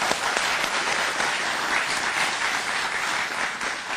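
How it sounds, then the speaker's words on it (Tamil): A large studio audience at a Tamil television show breaks into loud, sustained applause, a dense wash of clapping that carries on steadily the whole time. "ஒரு பலத்த கைத்தட்டல் கொடுத்தா நல்லா இருக்கும்னு நினைக்கிறேன்"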